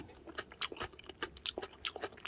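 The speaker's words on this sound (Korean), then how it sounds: "아 이거 씹히는 소리야" Crunchy stonecrop greens are chewed close up in a quick, irregular series of crisp bites and crunches, fairly quiet, with no talk.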